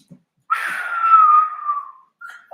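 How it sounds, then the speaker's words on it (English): One person gives a single loud whistle lasting about a second and a half, sliding gradually downward in pitch. A faint click comes before it and a short whistled note follows in near silence. "I'm sorry for whistling, y'all."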